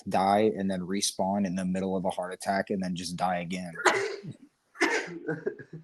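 A single sharp sneeze bursts out midway through a casual conversation between people talking, with speech before it and a brief pause just after.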